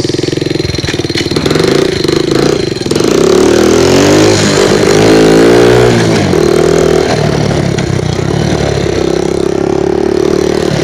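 A Yamaha Raptor 80 ATV engine runs loud and close, holding a steady buzzing idle with a few rises and falls in revs throughout.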